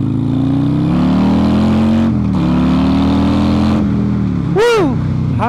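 A Harley Davidson motorcycle fitted with a 135 ci crate engine accelerates on an open road, a loud, close, deep rumbling exhaust rising in pitch through the gears, with a brief shift break and wind noise.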